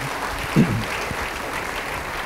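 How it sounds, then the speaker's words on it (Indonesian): A church congregation claps during a sermon, a steady, moderately loud wash of applause with a brief vocal exclamation near the start. "Beri tepuk tangan bagi Dia."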